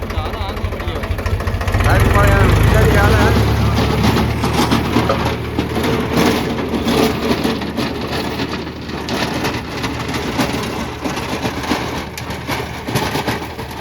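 A tractor engine runs in a farm field, a loud low rumble that swells early and then settles into a fainter background drone while people talk over it.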